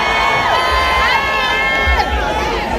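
At the 21st Haitian Compas Festival, a dense crowd claps and cheers loudly, with high shouts and whistling calls rising over the continuous applause.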